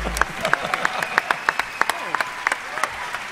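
Sparse, rhythmic clapping from a live concert audience at a Paris theatre, individual claps sharp and separate over a faint background with some tonal music or voice trailing underneath.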